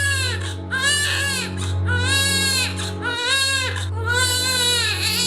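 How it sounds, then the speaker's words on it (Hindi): An infant cries loudly at night in long, wailing bursts with brief catches of breath between them, steady and close throughout. "रात को 2 बजे हमारा बच्चा रोया था"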